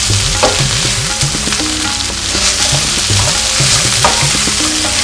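Okra and onions fry in a pan as a spoon stirs them in steady scraping strokes over a loud, constant sizzle, close up, with no talking.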